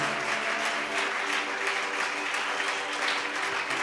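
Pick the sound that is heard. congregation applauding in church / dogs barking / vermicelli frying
congregation applauding in church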